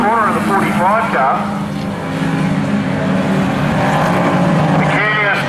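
Speedway race cars roar around the Toowoomba SpeedBowl oval, engines revving and rising in pitch as they pass close by, loud and continuous with a commentator talking over them.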